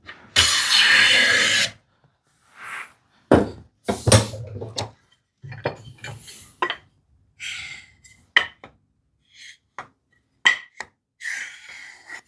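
A hand plane takes a few swipes across wood while a drawer pull is made, giving short bursts of rasping shavings separated by quiet gaps and light knocks of tool handling.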